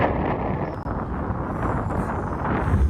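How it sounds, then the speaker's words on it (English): Steady wind buffets an outdoor microphone beside a river used by boats and barges, a loud continuous rushing roar with no voices. "It's actually windy today"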